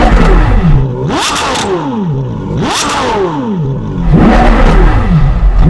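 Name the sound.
Porsche Carrera GT engine revving, induction and exhaust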